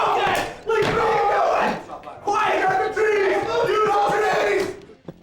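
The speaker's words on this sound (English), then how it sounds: "the crowd is going wild" A large crowd at a Super Smash Bros. Melee tournament roars and yells wildly, loud and sustained, with a brief dip before surging again and fading at the end.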